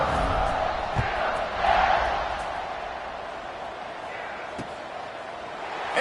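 In College Football 25, a stadium crowd cheers as a steady, roaring wash that swells around the middle and then settles, with a few dull thuds and a commentator talking over it.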